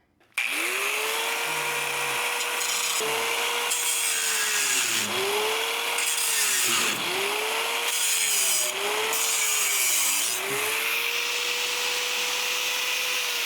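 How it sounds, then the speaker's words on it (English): An angle grinder cuts off a rusty front apron panel on a 1965 Ford Thunderbird, near the battery tray. Its loud, steady motor whine dips in pitch again and again as the disc bites into the metal. "Now I'll take the grinder and I'll snip this off and I'll see what's behind there."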